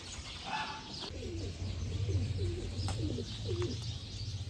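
Repeated soft pigeon coos from a champion breeding pigeon, several rolling calls in a row, close by over a low steady background hum.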